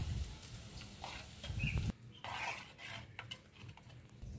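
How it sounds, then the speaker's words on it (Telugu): Spoon scraping and clinking in a bowl as ginger is stirred into a Telangana-style mango ginger pickle mixture, close and quiet, in uneven strokes with short pauses and no talking. "ఇప్పుడు ఇందులో అల్లం అనేది వేసుకుందాం. ఇలా కలుపుకోవాలండి."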